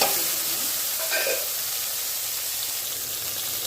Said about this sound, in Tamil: வெங்காயம், தக்காளி சேர்ந்து நல்லா வதங்கி வரட்டுங்க